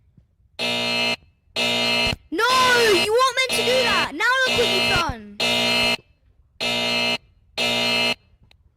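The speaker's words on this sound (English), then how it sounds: "Why is the alarm gone off?" An indoor alarm buzzes in repeated loud on-off bursts, each lasting about half a second with short gaps, while a voice speaks excitedly over the middle bursts.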